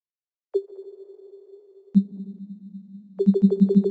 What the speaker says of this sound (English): And these are the new core unlocking and locking sounds.